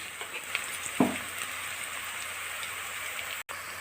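Onions fry with turmeric, curry leaves and salt in a pan for a mackerel curry with bilimbi, a continuous close sizzle with a brief stirring scrape near the start.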